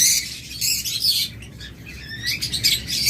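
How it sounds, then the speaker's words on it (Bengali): Many lovebirds chirping together at a bird market, a dense, continuous mass of high, overlapping tweets and calls close by, with no talk. "এখানে রয়েছে অনেকগুলো লাভবার্ড কম দামে"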